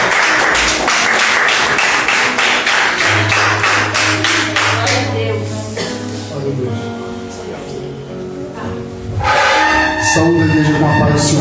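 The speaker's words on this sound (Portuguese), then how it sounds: "E as palmas exaltam." A church congregation clapping during a worship service, a dense burst of rhythmic handclaps at the start that fades under a low sustained tone, then swells again near the end, with someone speaking over it.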